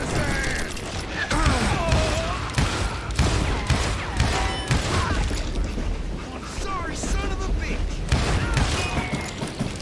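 Gunfire in the Call of Juarez Gunslinger video game, with repeated sharp shots and booms among clattering mechanical effects and game voices, while a player talks over the action.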